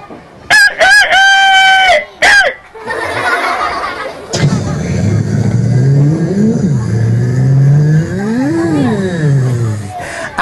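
A rooster crows loudly and close several times in the opening seconds, alone, followed by a busy stretch of mixed noise with a rising and falling engine-like drone.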